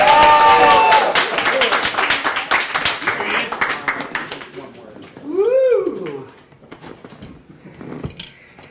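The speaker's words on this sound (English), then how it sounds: "Please start clapping right now for Mr. Joey Rimatello." Crowd applause for comedian Joey Rimatello at Gotham Comedy Club, loud dense clapping with cheers that fades after a few seconds into scattered claps, whoops and a voice.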